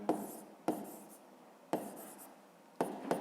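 Chalk or marker writing on a board during a physics lesson, four separate bursts of scratchy strokes with quiet pauses between, close and fairly soft, no talk.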